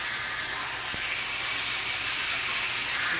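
Steak sizzling in a hot pan as it is flipped, a loud, dense, continuous hiss close by with one soft knock as the meat turns over, no voices over it.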